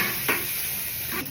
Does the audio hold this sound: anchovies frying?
yes